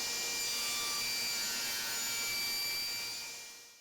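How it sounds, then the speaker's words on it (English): A table saw fitted with a tenon jig cuts the tenon shoulders on a wooden mallet handle, giving a steady, loud, high-pitched whine of blade through wood that holds for several seconds and then fades as the cut ends. "Using my universal tenon jig, I cut the width of the blade off on each side of the wide part of the handle"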